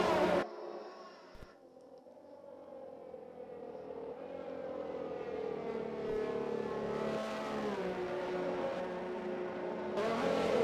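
Race car engines in a racing video game, on the Azerbaijan Grand Prix street circuit, build steadily as the car picks up pace toward the grid, a sustained droning rev that rises and brightens, moderately loud with no one talking.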